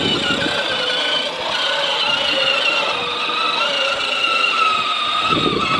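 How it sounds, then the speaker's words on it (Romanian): A child's rechargeable ride-on electric motorcycle, out for a ride toward a park, gives a steady mid-pitched motor whine that holds evenly throughout with no talk. "Am luat motocicleta."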